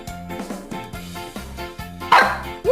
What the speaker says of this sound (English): My deaf dog thinks she's barking.